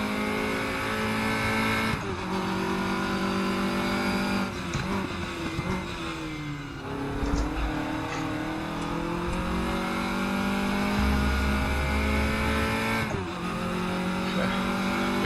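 A race car engine in the RaceRoom racing game, droning steadily and loud with rising and falling revs through gear changes and occasional tire squeal, heard alone without speech.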